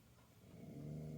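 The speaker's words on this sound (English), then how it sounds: "is growling because there's people outside" A dog growls low and steadily indoors at people outside, a faint rumbling growl that builds into a sustained, droning tone.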